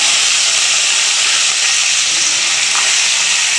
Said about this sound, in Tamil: அதில் எண்ணெய் நல்லா காஞ்சிச்சு இப்போ நம்ம கடுகு சேர்த்துக்கோங்க பாருங்க கடுகு நல்லா பொரிஞ்சிருச்சு